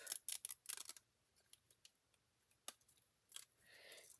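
Thin backing paper is peeled off a handmade fold card in short crackling bursts, close and fairly quiet, with brief pauses between the pulls.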